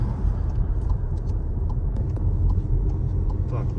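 A Skoda Octavia A7 2.0 TDI turbodiesel is heard from inside while driving in a high gear, giving a steady, loud low rumble of engine and road noise with no breaks.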